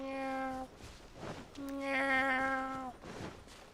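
A person imitates a cat with a vocal meow, drawn out and tonal, followed by a second longer, rising meow, loud and close with no other sounds.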